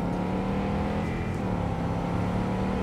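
A Delamain car cruising in Cyberpunk 2077, a steady smooth engine hum and road roar holding at an even, close, constant level throughout with no pauses.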